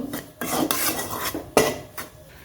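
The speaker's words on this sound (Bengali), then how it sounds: "আমি এই যে চালের গুড়িটা টেলে নিলাম" Dry rice flour is scraped and stirred around a pan without oil, with repeated metallic scrapes and clinks of a utensil against the pan.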